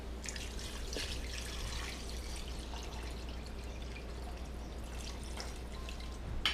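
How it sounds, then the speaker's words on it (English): Water pours steadily into a cooking pot over pieces of beef, a close, continuous splashing trickle with a low hum underneath. "And just cover it with some water."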